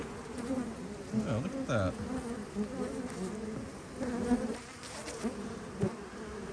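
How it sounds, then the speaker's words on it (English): Honey bees buzz around a beehive in an apiary set in a cow pasture, with a steady low hum and individual bees droning past up close, while a person speaks briefly. "Looks like there's quite a bit of bees here"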